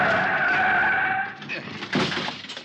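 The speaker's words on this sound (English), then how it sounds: "The other driver had jammed on his brakes and finally skidded to a stop against the curb." A car jamming on its brakes and skidding to a stop against a street curb: a loud, sustained tire squeal that fades, followed by a short rough scrape and rumble.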